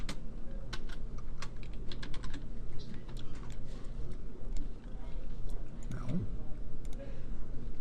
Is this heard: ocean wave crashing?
no